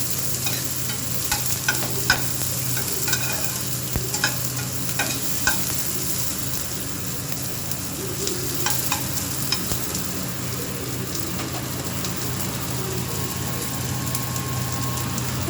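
Frying in a pan for a home-style mashed eggplant dish, a continuous close sizzle with scattered scraping clicks of a spatula stirring, steady throughout with no voices.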